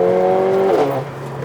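A 440bhp Mercedes A45 pulls hard in fourth gear, its engine loud and close with a rising roar that shifts pitch partway through before settling lower.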